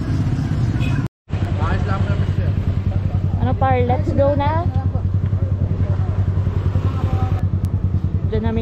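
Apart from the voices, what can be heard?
motorcycle engine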